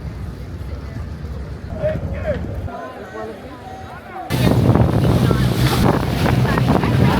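Steady wind and engine rumble with water rushing past a moving boat off Saint Lucia, growing suddenly louder and broader partway through; faint voices at the start.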